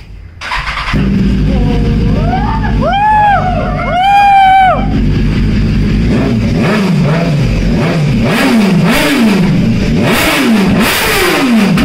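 A BMW S1000 RR Pro sport motorcycle engine starts and revs loudly and close, with sharp throttle blips climbing and dropping, the last few revs coming in quick succession.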